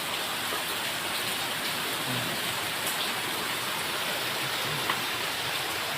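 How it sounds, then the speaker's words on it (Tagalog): Heavy typhoon rain pours steadily in Mariveles, Bataan, a dense, continuous hiss of drops with no breaks or voices. "Pero ngayon buwabanat na naman yung ulan."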